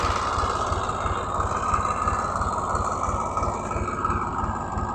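A tractor engine chugs steadily nearby in a castor field with a low, regular thumping pulse and a constant mechanical drone, no voices.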